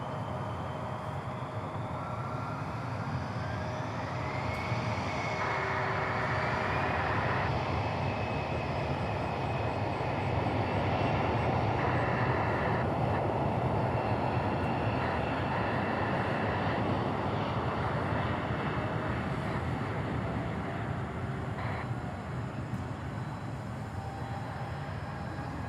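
A Boeing 737-800 at DFW airport produces a steady, moderately loud engine roar with a rising whine, holding constant throughout at mid distance.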